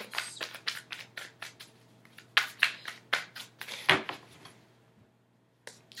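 Tarot cards being shuffled by hand, a run of quick crisp riffling bursts close by, ending in a short pause and one final flick.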